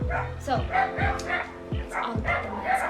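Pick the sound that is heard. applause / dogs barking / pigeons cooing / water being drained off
dogs barking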